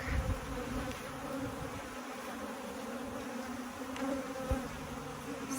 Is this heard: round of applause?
no